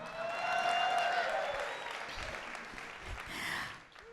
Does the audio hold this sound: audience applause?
yes